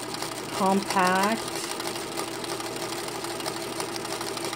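A Singer Featherweight 221 sewing machine running steadily and stitching, its fast even whir close and continuous while a person speaks briefly over it near the start.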